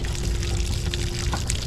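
Steady pouring water draining through a Dacia Sandero Stepway's scuttle drain, a continuous close splashing flow with a trickling hiss throughout, no voices.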